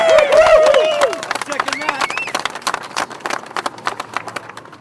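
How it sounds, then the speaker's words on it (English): Rally crowd outside a Honda dealership cheering and clapping, opening with loud whoops and shouts that give way to dense, sustained applause with scattered claps and yells, fairly close and steady throughout. "This crowd is overwhelming"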